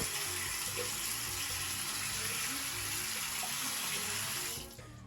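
Water pours steadily from a faucet into a basin in a continuous, fairly soft rush, then drops away and thins out near the end.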